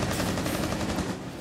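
Rapid automatic gunfire in the tactical shooter Rainbow Six Siege during a tournament match, a dense continuous burst of shots, loud and close, with no pauses.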